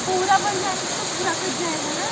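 A waterfall at Rock Garden in Darjeeling drops from a great height, making a steady, loud rushing hiss that continues without a break while people talk over it.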